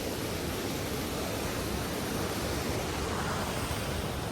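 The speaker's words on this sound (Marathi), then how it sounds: "पाऊस कमी झालाय, रिमझिम आहे, पण कंटिन्यू पडतोय" Continuous drizzling rain falls in coastal Ratnagiri, a steady, even hiss of fine drops that holds without a break for the whole stretch, with no voices over it.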